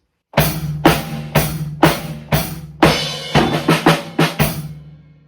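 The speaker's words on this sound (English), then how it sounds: "if we put that together with a beat, it's going to sound like this" A drum beat with a steady kick-and-snare pattern, ending in a quicker run of hits as a fill, played alone and fairly loud.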